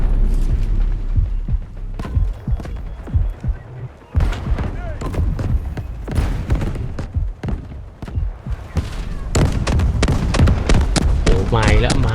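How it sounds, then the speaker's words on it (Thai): Explosions and heavy gunfire burst out in the shooter game Delta Force: Hawk Ops, with loud, jagged blasts recurring throughout amid battlefield noise while someone talks over the action. "นี่ระเบิด"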